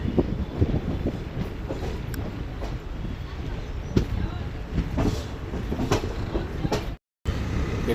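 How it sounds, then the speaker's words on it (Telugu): A passenger train rolling across points as it changes tracks, with irregular clicks and clunks of wheels over rail joints over a steady rumble, heard from on board with people talking. "బండి ట్రాక్ చేంజ్ అవుతాను చూడండి."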